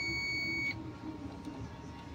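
A multimeter continuity buzzer beeps on a shorted diode in a TV main board's primary supply. The steady tone holds briefly at the start, then cuts off, leaving low background noise and a faint voice.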